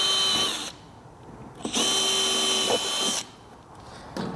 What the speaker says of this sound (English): So a little trick I like to do is just drill one little hole here.